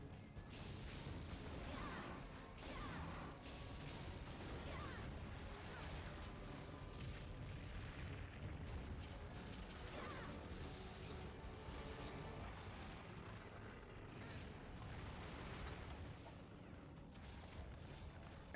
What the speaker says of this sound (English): I hate that stupid explosion afterwards.